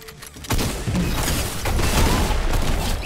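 Grenade launcher explosions and gunfire in a shooter video game, a dense, loud barrage of booms and rapid shots that starts abruptly and continues without a break.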